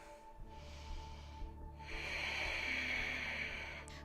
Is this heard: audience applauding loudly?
no